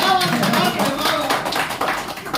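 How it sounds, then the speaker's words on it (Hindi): A crowd claps briskly for contestants who answered correctly, a loud, lively burst of many hands with talk and voices mixed in throughout. "सबसे पहले तो इनके लिए ताली बजाओ"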